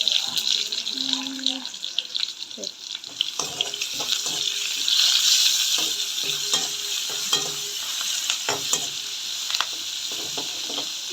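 Ginger garlic paste frying in a pan, a busy sizzle broken by scraping stirs and clinks of a utensil, with a voice briefly heard nearby.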